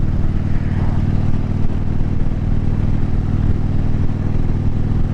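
A 2010 Harley-Davidson Street Glide Ultra cruising in fourth gear, its engine a loud, steady low rumble with rhythmic exhaust pulsing and wind rush, close to the microphone throughout.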